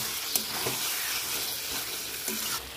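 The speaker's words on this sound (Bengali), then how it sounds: "ভালো করে নেড়ে চেড়ে কষিয়ে নেবো।" Chicken curry stirred and sautéed in a pan, a steady close sizzle and hiss with scraping stir strokes breaking through at intervals.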